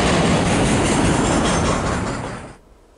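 A CN freight train rolls loudly past the Range Road 253 level crossing on the Three Hills Subdivision, a dense rumble of wheels and cars that fades quickly as the last car clears.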